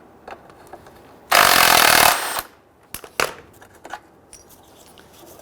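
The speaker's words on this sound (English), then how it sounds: "Remove the 13mm bolt that is securing the canister to the bracket." Impact wrench or power ratchet spinning out a 13mm bolt holding a vapor canister to its bracket on a 2007-2014 Cadillac Escalade 6.2L V8, one loud burst under a second, followed by scattered metallic clinks and handling noises.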